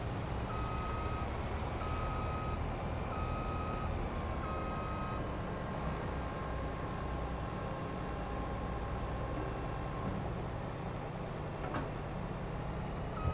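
A truck's reversing alarm in Farming Simulator 22 beeps steadily and evenly over a constant low engine drone, with no talking.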